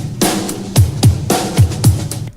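A music mix pushed through extreme DBX compression with +20 dB output gain pumps out loud and dense. Heavy drum hits land in a steady beat under a squashed, roaring wash of sound.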